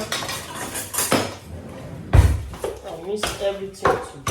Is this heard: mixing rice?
yes